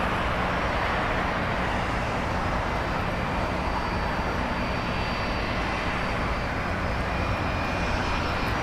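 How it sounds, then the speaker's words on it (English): A United Airlines Boeing 757 lands at LAX, its engines producing a steady, loud roar with a broad whine, continuous for the whole stretch and no voices. "That right there is United Airlines flight 2434. Landed in from EWR."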